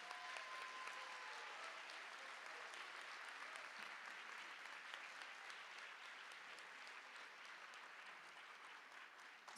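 Audience applause fills a school cultural day hall for Grade 5 performers, a steady, dense wash of clapping from a large crowd that holds evenly for about ten seconds.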